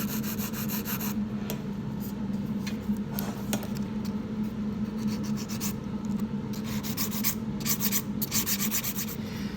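Acrylic nail being filed with a 100 grit nail file, a steady close rubbing rasp running continuously with slightly brighter strokes toward the end, no talking.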